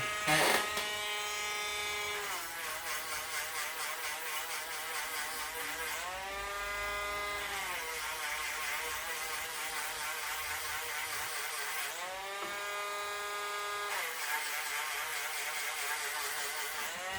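A high, whining rotary tool buzzes steadily while sanding a silver ring made from a Morgan silver dollar, its pitch dipping and rising several times as it presses against the metal, with no talking.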